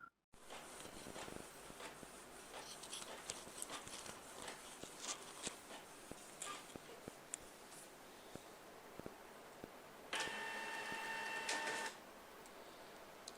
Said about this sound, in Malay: nampak dia dah sedut balik dia punya kertas tu. Maksudnya kita print depan dan belakang.